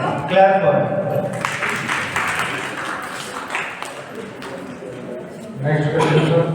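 Classroom-sized clapping from a small group at an in-house training session, a short burst of scattered claps with voices speaking before and after it.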